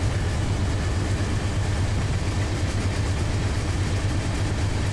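A heavy 12,000-ton coal train in Run 8 Train Simulator rumbles steadily with a deep, constant diesel drone and rolling rail noise, loud and unbroken throughout with no talking.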